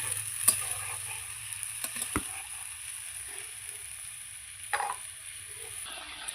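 Fish curry sauce simmering in a pan: a steady, close hiss of boiling and sizzling broken by a few sharp clicks and taps, with no talking.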